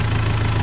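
Steady, loud idle of a tractor engine heard close, a low continuous rumble with an even pulsing throb and no talk.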